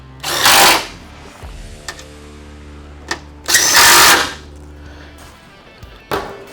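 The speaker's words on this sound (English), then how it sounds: "So for the front bolts, we're just going to use our impact here." Two loud bursts of an impact wrench driving the front bumper mount bolts on a 2021-or-later Ford Bronco, each lasting about a second, with faint clicks and handling noise between them.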